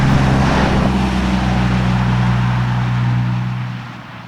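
A widebody Rolls-Royce Cullinan Black Badge Overdose with over 700hp drives along with a loud, continuous engine drone and rich low harmonics under broadband road noise. The drone eases and fades in the final second.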